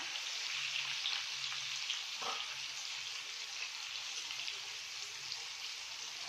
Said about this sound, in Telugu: ఈ రకంగా ఇంకొంచెం ఫ్రై కానిద్దాము